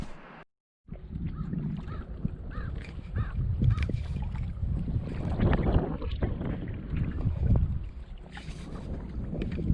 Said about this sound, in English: Phil went out in the kayak, and you can see here he's testing the sail in the windy conditions